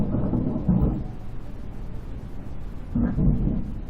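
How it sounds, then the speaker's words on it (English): Thunder from an electrical storm rumbles low and deep overhead in two swelling rolls separated by a steady dull grumble. "And there is thunder right overhead, so I do apologise about that."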